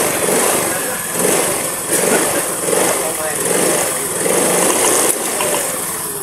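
A motorcycle engine runs steadily after battery and regulator wiring work, a continuous rough hum with pulsing swells and someone talking over it.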